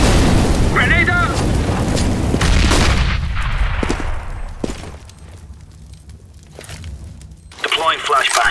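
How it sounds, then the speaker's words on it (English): A grenade detonates in a video game, a loud booming blast rolling into a long decaying rumble, followed by scattered sharp pops and crackles, with brief game voice callouts. "Grenade out!"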